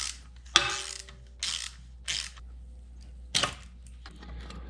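A 10mm bolt being loosened from the kickdown cable bracket on a TH350 automatic transmission, heard as a few close, sharp ratchet clicks and metallic clatters in short bursts with quiet gaps between.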